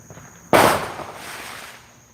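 Fireworks going off: one sharp, loud bang followed by a crackling, hissing tail that fades over about a second and a half, with no voices.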